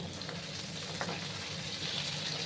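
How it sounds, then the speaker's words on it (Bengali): Potato pieces frying in a pan for a vegetarian gourd-stem dish: a steady, close sizzle and crackle of hot oil with no pauses or talking. "আলুগুলোকে আমি একটু লাল লাল করে ভেজে নেব।"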